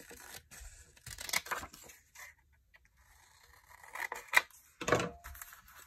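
Paper being trimmed to size for a craft background page, heard as scattered close snips and rustling bursts with quiet gaps between them, and no talking.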